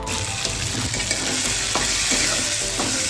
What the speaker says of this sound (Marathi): आता हे सर्व आपल्याला मिक्स करून घ्यायचं आहे तेलामध्ये